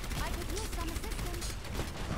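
Rapid gunfire in the video game Overwatch during an Orisa and Roadhog match, a quiet, dense stream of shots under busy game noise.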